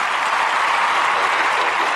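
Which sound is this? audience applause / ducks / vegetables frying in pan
audience applause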